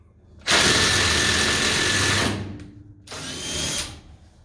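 A power drill drives self-tapping screws into a 3/4 inch piece of wood: two loud, close whirring bursts, the first about two seconds long and the second shorter, separated by a brief pause.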